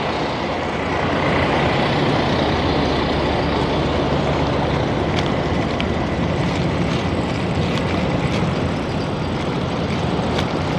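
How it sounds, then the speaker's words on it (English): Heavy trucks rumble and idle at a busy truck stop, a dense, loud, unbroken roar of engines with faint clatter over the top. "Truck stops are loud."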